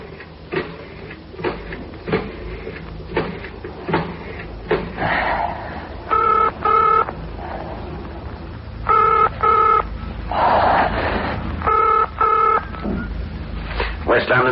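A telephone is dialed in a radio drama, with a run of clicks and then repeated clusters of electronic tones, interleaved with anxious muttering from a man on the line.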